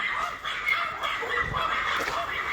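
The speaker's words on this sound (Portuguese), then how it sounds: "Esse cachorro ali." A dog gives short yips and whimpering barks in a few bursts over a constant background murmur.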